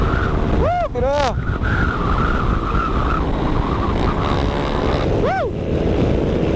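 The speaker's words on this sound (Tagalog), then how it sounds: "Lalakas ng motor nila" Racing boat engines at an endurance race: a continuous loud roar mixed with wind buffeting on the microphone, with brief rising and falling whooshes as boats pass nearby.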